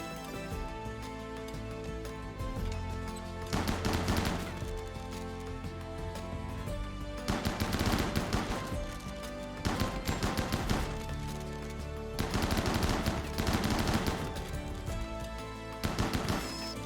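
Automated turret gunfire in the video game RimWorld comes as several sustained bursts of rapid shots, each lasting one to two seconds, over a constant game soundtrack, with no talk.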